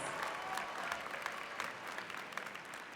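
A theater audience at a graduation salute ceremony in a large music hall claps in a dense, steady round of applause, filling the space evenly for a few seconds.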